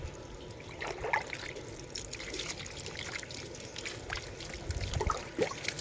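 Water is poured and trickles while someone washes in a village home, soft dribbling and splashing with occasional louder splashes over a low background.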